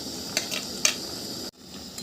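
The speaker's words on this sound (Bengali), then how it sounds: "মাখিয়ে রাখা মাটনটা দিয়ে দেব। একটু ভালো করে সবগুলো নাড়াচাড়া করে নেব।" Marinated mutton stirred in a pan for curry, with a soft sizzle and a couple of sharp clinks of a utensil against the pan before the sound cuts off abruptly.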